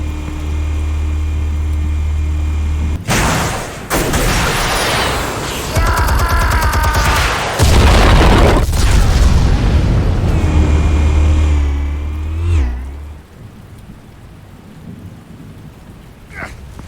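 Explosives detonating in the Batman Telltale video game: loud booming blasts and crackling debris over a deep rumbling bed, several bursts in the first half before the roar fades away.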